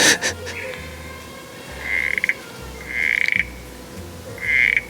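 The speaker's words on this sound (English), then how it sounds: "I think it's the sound of the brown tree frog" Brown tree frog calling in Tasmania, a few short rasping trills repeated at intervals of about a second, fairly close, over soft background noise with no talk.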